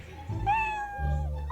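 A cat gives a single drawn-out meow that rises and then falls, clear and fairly close, with low background noise before and after it.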